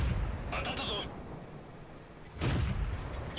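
Artillery gun firing in World of Tanks, a sudden loud boom bursting in mid-clip over a low rumbling battle backdrop, with a faint earlier thump; a commentator's voice runs alongside.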